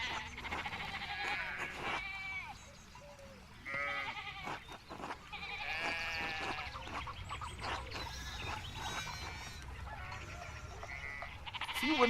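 Sheep bleat repeatedly in the medieval village game Pentiment, several overlapping calls over about twelve seconds with a busy farmyard background.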